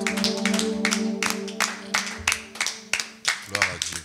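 A church congregation at a French-language worship and prayer service for the sick claps in acclamation of the Lord, steady hand claps ringing out over a sustained organ or keyboard chord, loud and rhythmic, near and lively.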